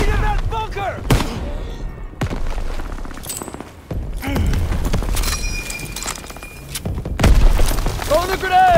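Call of Duty WWII combat: a grenade blows up inside a bunker, with several sharp explosive bursts and crackling gunfire amid a noisy battle soundscape, with shouting voices mixed in throughout.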